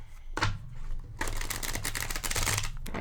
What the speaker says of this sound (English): I've been shuffling this deck for a minute.